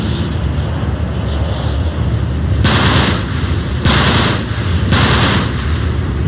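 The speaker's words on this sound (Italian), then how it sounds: "So di aver fatto abbastanza bordello con questa esplosione, cioè con questo sparo" Gunfire in the video game Uncharted 3, three loud bursts of shots in quick succession over a constant roaring background of wind and surf-like noise.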